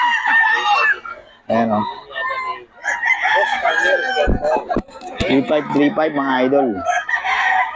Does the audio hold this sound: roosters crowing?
yes